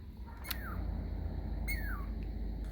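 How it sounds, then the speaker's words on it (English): A chickadee calls from a tree in a snowy landscape: two short, descending chirps spaced about a second apart, fairly faint over a steady low outdoor rumble. "little chickadee, sitting on a branch staring at us"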